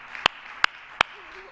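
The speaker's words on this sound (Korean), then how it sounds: "우리 고요한 중에도 함께 하신 주님께 영광의 박수 한번 올려드립시다." A church congregation at a Christmas service gives a short round of applause, heard as three sharp, distinct claps spaced evenly over about a second, close by with no talk over them.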